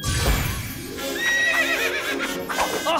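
A cartoon toy horse lets out a loud, clear neigh with wavering whinny tones, sounding over busy background music and effects.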